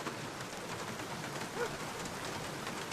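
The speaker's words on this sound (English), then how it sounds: "Why are you sitting here like this in the rain?" Steady rain falling in The Black Mirror video game, a continuous even hiss of downpour with no distinct drops standing out, heard alone at moderate level.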